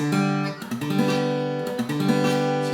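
A beginner strums an acoustic guitar chord with the strings not pressed down hard enough, so the chord sounds dull and muffled, repeated in a few short strums with no one talking.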